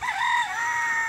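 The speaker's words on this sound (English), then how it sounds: "There are some Polish roosters living in here." A Polish rooster in its pen gives a short, clear crow, a single brief call heard up close with no talking.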